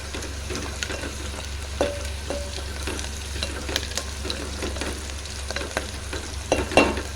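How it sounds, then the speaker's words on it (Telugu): Onions frying with asafoetida in a pan for a raw-mango dal curry, stirred with a spoon, making a continuous sizzle broken by scraping and clinking strokes, close and steady, with no voices. "ఇంగువ వేసుకొని ఒకసారి కలుపుకుందాము."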